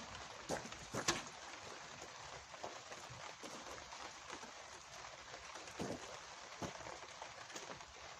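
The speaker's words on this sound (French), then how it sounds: "il commence à pleuvoir un petit peu fort" Quiet, steady rainfall hisses in the background with occasional louder drops tapping close by.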